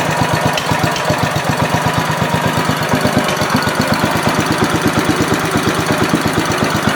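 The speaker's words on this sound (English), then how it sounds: "There it is, idling." A Honda GX340/GX390 small single-cylinder engine idles close by, chugging in a fast, even, loud pulse that continues steadily with no voices over it.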